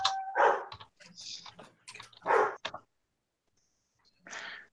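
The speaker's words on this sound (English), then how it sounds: "Wow, I hear some dogs barking." Dogs barking in short sharp bursts, several separate yaps and barks with gaps of silence between them, heard fairly clearly and with no talking.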